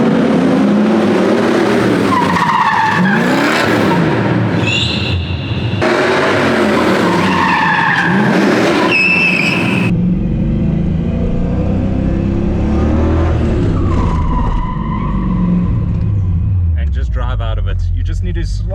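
A car drifting through a 90-degree turn, the engine revving up and down as tires skid and squeal in long sliding bursts, close and loud, with someone talking over it.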